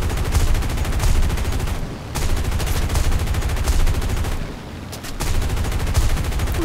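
Rapid bursts of automatic gunfire crackle almost continuously, loud and dense, with a couple of short pauses between volleys, typical of a combat game.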